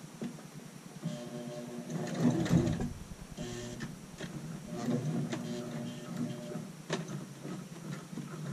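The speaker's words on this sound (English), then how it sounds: "So we'll start and end with a back stitch." Sewing machine running a back stitch on a child's shirt pocket, a rapid mechanical ticking hum that speeds and slows in short runs, close and steady.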